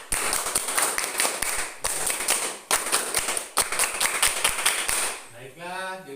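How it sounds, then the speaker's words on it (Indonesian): A classroom of students does two rounds of the Indonesian scout clap, brisk rhythmic group clapping split into repeated patterned phrases with brief breaks, followed by a speaking voice at the end. "2 kali tepuk pramuka."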